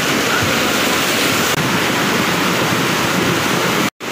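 Floodwater from a landslide after heavy rain in Sikkim rushes past in a loud, steady roar of churning water that fills the whole clip before cutting out briefly near the end.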